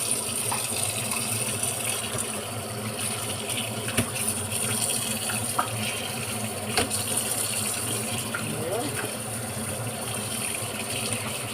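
Salted dried fish (daing) being rinsed in water, with steady splashing and running-water noise and a few sharp knocks, moderately quiet and close.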